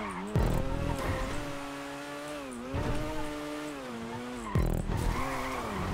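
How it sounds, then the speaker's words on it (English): A car spins out in the racing game GTA, its tyres squealing in several long skidding bursts over a droning, pitch-shifting engine, loud and close, with no speech. "I've spun out."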